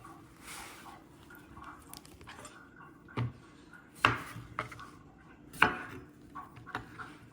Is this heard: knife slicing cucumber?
yes